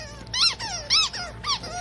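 A German Shepherd chomps on a BarkBox squeaky toy, producing three loud, close, high-pitched squeaks in a steady rhythm.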